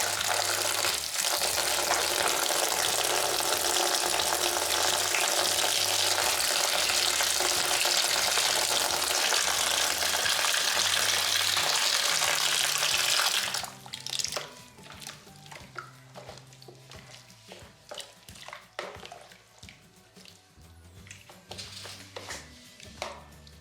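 Boiling water rushes from a tap in a loud steady pour into a container for about thirteen seconds, then gives way to quieter clinks and handling sounds.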